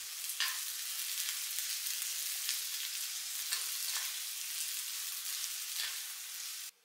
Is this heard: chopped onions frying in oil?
yes